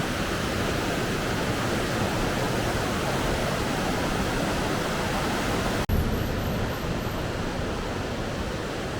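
Steady, loud rushing of river water in a mountain valley near the Salang Tunnel pass, a constant broadband roar with a brief thump partway through and no talking.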